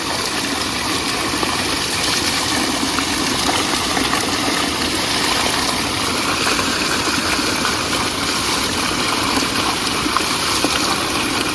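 Mountain spring water rushes and splashes continuously nearby, a steady broad gurgling flow with no pauses and no voices.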